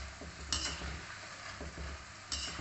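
Namkin khajur snacks frying in oil over a medium flame make a soft, continuous sizzle with a couple of brief brighter crackles, fairly quiet and close, no voices.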